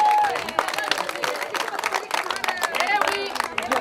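Audience applause in a hall during a public discussion, lively clapping from many hands mixed with crowd murmur and scattered voices, fairly close and sustained for several seconds.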